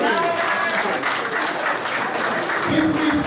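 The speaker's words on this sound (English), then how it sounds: "Please give them a round of applause again." An indoor crowd at a medical clinic's official opening claps in sustained, dense applause that stays loud and even from start to finish.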